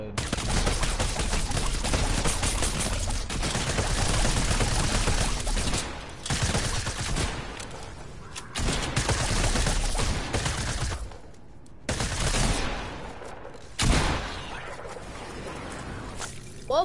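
Near-continuous video game gunfire pours out in dense, loud automatic bursts, broken by a few short gaps and reload pauses.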